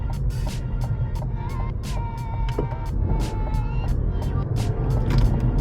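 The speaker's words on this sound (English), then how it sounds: "I just have the engine sound turned all the way up" Cadillac CT4-V Blackwing on the move with its exhaust valves open, a deep, steady engine drone underneath and higher engine tones that rise and fall with the revs, accompanied by repeated short clicks or ticks.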